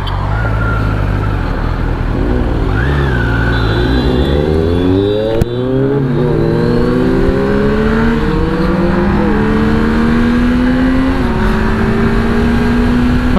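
A Kawasaki ZX-10R motorcycle with an AR exhaust revs and accelerates hard on a road ride, its pitch climbing through several gear changes. The sound is loud and continuous, with steady wind and riding noise throughout.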